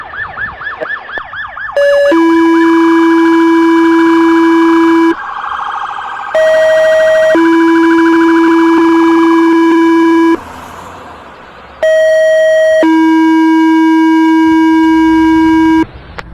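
Loud electronic fire dispatch paging tones for a second-alarm structure fire in Metamora, Michigan, in long steady blocks, each holding a pitch for several seconds before switching, repeated twice with short gaps.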